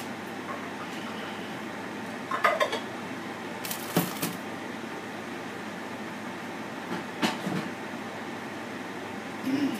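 Bowls and dishes being set out for serving noodle soup, heard as a few sharp ceramic clinks and knocks scattered over a steady low hum, close and fairly loud against a quiet background.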